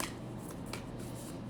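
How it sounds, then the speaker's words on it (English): Tarot cards are shuffled close by in soft riffling bursts, a brief flutter of card edges repeating over a quiet hiss. "Okay, so one more shuffle."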